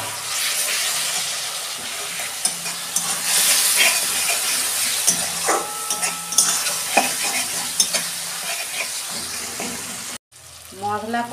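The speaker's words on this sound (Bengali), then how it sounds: "অল্প পরিমাণ জল দিচ্ছি" Masala frying in a pan for a lote (Bombay duck) fish curry, with a small amount of water added; steady loud sizzle and hiss with stirring scrapes throughout, a brief cut near the end, then bubbling.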